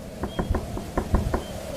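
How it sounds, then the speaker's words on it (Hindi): Knocking on a door in a horror animation: a run of about seven quick, light, evenly spaced raps, close and clear over a low background hum. "दरवाजा खटखटाने की हल्की सी आवाज आ रही थी"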